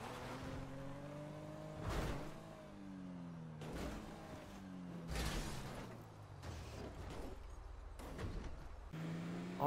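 A jeep drives down a hill in a video game, its engine rising and falling in pitch as it revs, with repeated bursts of tire and impact noise. It plays quietly and steadily throughout.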